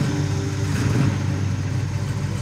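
A rebuilt, supercharged van engine runs close by with a loud, steady low rumble and a slight swell partway through, and no voices are heard over it.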